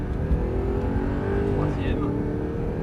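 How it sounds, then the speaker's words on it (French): A race car engine on a track drones loudly at full throttle as the car accelerates, a steady heavy roar with a brief higher whine near the end, while an instructor speaks over it from inside the car. "Allez, on peut accélérer, on est à fond."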